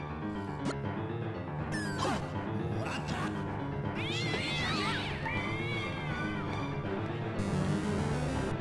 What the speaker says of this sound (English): Why do so many cats live here?